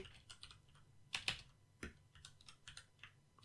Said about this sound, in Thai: ถ้าเราพิมพ์คำว่า goodbye ตรงนี้นะครับ